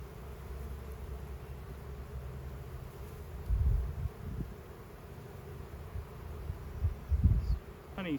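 Honey bees drone around an opened hive during a spring inspection. The hum is steady and close, and a few louder bumps and thuds stand out above it.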